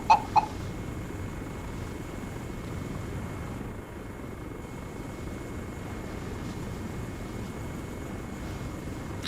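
Helicopter rotors drone in the Arma 3 game on a Malden map, a steady low, distant thrum that holds throughout after a couple of brief sharp clicks at the start, with no talk.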